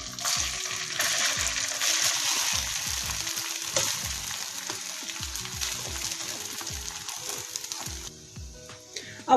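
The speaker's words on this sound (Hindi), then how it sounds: "अब इसके अंदर उबले हुए चावल जो थे ये डाल देंगे।" Boiled rice tipped into hot ghee with cloves and green cardamom, sizzling and frying steadily while a spoon scrapes and stirs it in repeated rhythmic strokes, close up.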